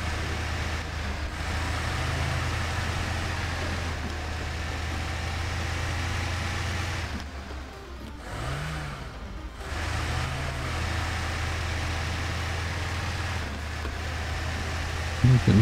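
A truck engine in the MudRunner video game idles at a steady low drone through the whole stretch, briefly dipping near the middle before settling back to the same hum.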